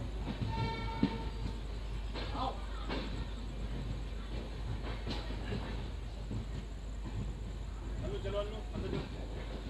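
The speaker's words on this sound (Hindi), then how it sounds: "हमारी ट्रेन जो है वो अपनी फाइनल डेस्टिनेशन तिरुपति के लिए निकल चुकी है यहाँ से" A train pulls away on its journey to Tirupati, a continuous low rumble with clattering wheels and faint horn tones, heard from aboard with people talking in the background.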